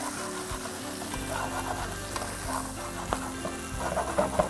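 Green beans with chili pepper and roasted garlic sizzle steadily in a hot pan, a dense continuous frying hiss with occasional soft clinks, fairly close and alone with no talking.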